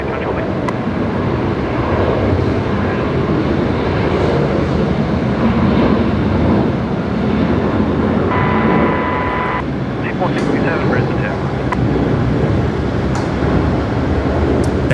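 A Velocity Airlines jet departs Brisbane Airport at night for Melbourne, its loud steady engine roar sustained and filling the scene, with a faint voice underneath.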